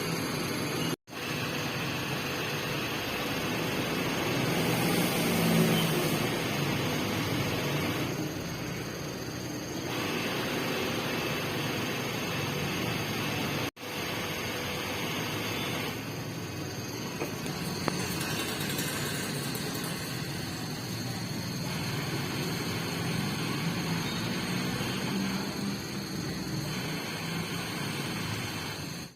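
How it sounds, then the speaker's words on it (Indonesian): A Shimizu Jet 100 BIT semi-jet water pump runs with a steady, even whirring hum that holds at a constant level throughout, with only slight fluctuations and no speech. "kita langsung aja lihat seperti apa bunyi dari jet 100 speed dari Shimizu ini"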